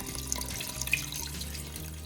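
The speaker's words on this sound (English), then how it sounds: "I'm gonna add 6 cups of water." Water pouring from a cup into a pressure cooker pot during French onion soup preparation, a close steady splashing stream with small gurgles and drips, no voices.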